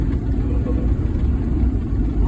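A truck sliding down an icy hill during a December 2021 ice storm gives off a low, steady engine rumble with road noise, continuous and fairly loud from inside the cab.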